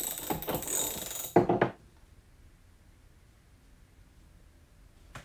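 Ratcheting clicks from an SK ratchet wrench under a torque test load, a quick burst of sharp clicks close up, then near silence with one more faint click at the end.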